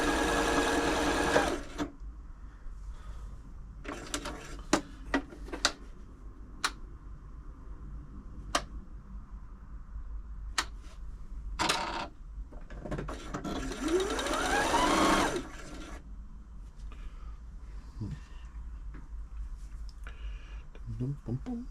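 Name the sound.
Janome Atelier 6 sewing machine running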